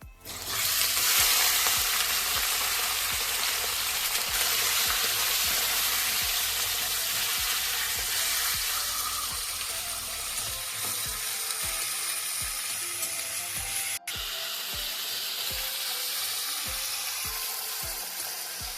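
Chicken pieces hit hot oil with bay leaf and whole garam masala, giving a loud, dense, continuous frying sizzle with steady rhythmic stirring taps in the pan, close and with no voices.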